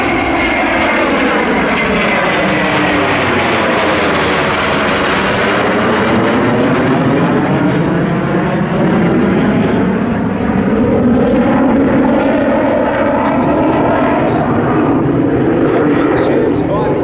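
A restored F4U-4 Corsair propeller fighter flies past at an airshow, its loud engine drone rising and falling with a sweeping Doppler shift across the pass, while a commentator talks over the roar throughout.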